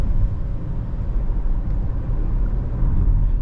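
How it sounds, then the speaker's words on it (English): Inside a 2025 Kia Sonet GTX Plus driving on a hilly ghat road, the engine drones low and steady as it rev-matches under braking, a continuous rumble with little change in level. "If you're going at a certain speed and if you apply the brakes, did you hear that? It does rev matching."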